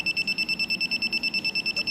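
Buzzer on a battery water distillation machine sounding as the tank fills, a rapid regular series of high electronic beeps pulsing about eight times a second, steady and close with no voices.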